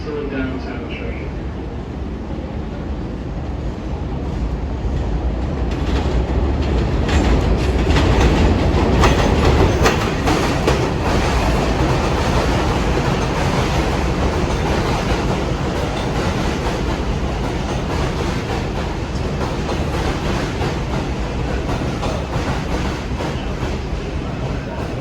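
An R142 subway train on the 4 line rumbles through 167th Street station, a loud, sustained roar of wheels and rail with rhythmic clacking as it rolls along the elevated track, no talk heard over it.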